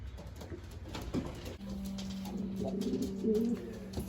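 Pigeons coo inside a loft, a steady low droning coo running through most of the stretch with a few fainter overlapping calls, close and moderately loud against a quiet background.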